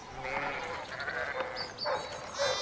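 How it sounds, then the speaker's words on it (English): Sheep in the video game Pentiment bleat in several short, close calls, some overlapping, across a brief stretch with no talk. "These sheep are out of control."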